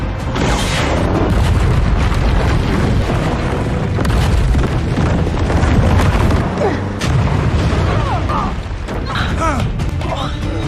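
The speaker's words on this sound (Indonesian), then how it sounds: "Lolos dari ledakan terowongan barusan" Heavy rumbling blasts and booms from a tunnel explosion roll through continuously, loud and dense, with a voice faintly buried beneath the chaotic noise.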